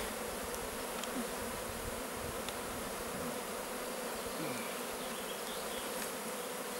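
Honeybees buzzing in a dense, continuous drone around a hive during a swarm transfer, close and steady, with faint higher whines from individual bees passing near, and no talk.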